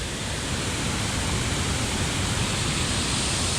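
Rain-swollen waterfall in Vagamon, Kerala, pouring down with great force: a dense, continuous roar of rushing water, loud and near, steady from start to finish with no talking.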